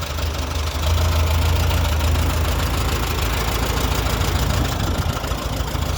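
An old tractor, just started by hand crank, idles steadily and loudly up close with a constant low, knocking chug and no pauses or voices.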